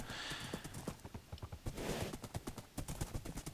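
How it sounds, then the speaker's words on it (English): Minecraft horse galloping at full speed, quick rhythmic clip-clop hoofbeats in a steady three-beat pattern, close and fairly quiet, with no talking over them. "I could ride my horse at full speed"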